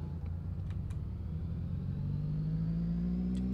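A car engine in the Project Zomboid video game rumbles steadily while driving, its pitch slowly rising as it speeds up, with faint ticks over the low drone.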